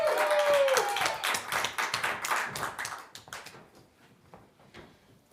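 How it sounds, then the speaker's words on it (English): Live show audience at a festival breaks into applause that starts dense, then thins into scattered individual claps and taps that fade out over several seconds, with a brief whistle-like tone at the start. "please, everyone, give a huge round of applause to the amazing Tom S.T."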